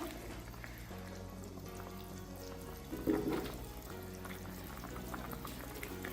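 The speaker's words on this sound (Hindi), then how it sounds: "ये देखिए उबाला आना शुरू हो गया है।" Chicken korma cooking in yogurt water in a pot, Karachi style, coming up to a boil: a steady simmering bubble throughout, with a brief louder stir or bump partway through and no talking.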